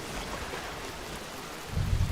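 Rain falls in the Fallout 76 game world, a steady soft hiss of droplets throughout, joined near the end by a low rumble like distant thunder.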